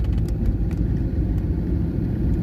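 A Fiat Ducato van carrying about a ton of load cruises on smooth asphalt between Çatalca Nakkaşköy and Hadımköy, giving a steady, even engine and road rumble from inside the cab.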